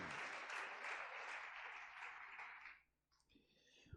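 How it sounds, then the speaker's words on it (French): Church congregation applauding and cheering during a sermon, a dense steady wash of clapping for nearly three seconds that then drops away, leaving quieter crowd murmur. "Est-ce que quelqu'un peut acclamer?"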